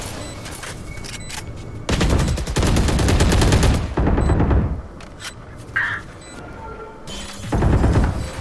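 Gunfire in the video game Valorant during a tournament finals round, with loud bursts of rapid automatic shots in several clusters separated by quieter gaps and a few single cracks.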